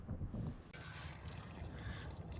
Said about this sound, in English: So I'm draining all the water until I start seeing the oil